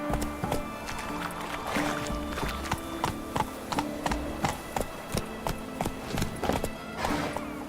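Roach the horse galloping in The Witcher 3, steady clip-clop hoofbeats repeating throughout over a busy game soundscape of music and ambience.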